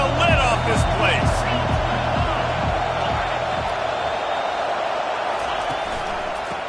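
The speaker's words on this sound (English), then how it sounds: "this crowd is tearing the lid off this place" A college football stadium crowd roars in a steady, loud, sustained wash of cheering that fills the background, while a commentator talks over it.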